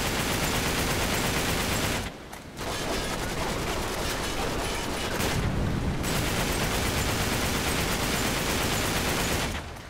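Dense, loud, continuous gunfire from the video game Uncharted 3: Drake's Deception, with rapid overlapping shots broken only by two brief pauses and no talking.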